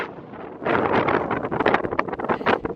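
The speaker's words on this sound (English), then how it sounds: "It's windy!" Outdoor wind buffets a microphone in open Yorkshire countryside, giving loud, gusty rumbling bursts that rise and fall over a few seconds.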